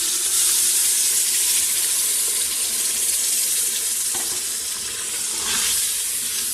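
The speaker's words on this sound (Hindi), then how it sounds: "अब हम इसे भून लेंगे जब तक ये इकट्ठा ना हो जाए।" Turnip bhujia frying in a pan gives a steady, close hiss of sizzling that runs throughout, with a brief stirring scrape near the end and no talk.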